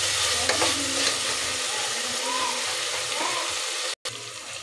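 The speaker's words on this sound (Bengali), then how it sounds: "দেখুন ভালো করে আমি ভেজে নিয়েছি মশলাটাকে লাল লাল করে।" Masala of onion, garlic and green chilli frying in oil, a steady close sizzle with occasional stirring scrapes, then a brief cut to silence near the end.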